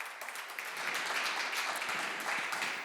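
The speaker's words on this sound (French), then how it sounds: "Vous pouvez l'applaudir." A modest, somewhat distant crowd claps at an evening debate event, a soft continuous patter of applause rising slightly and holding steady.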